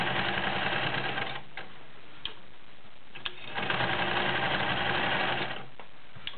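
Janome 900 sewing machine stitching through five layers of denim with a size 16 needle, a close, steady mechanical whirring in bursts, with short pauses and light clicks between runs.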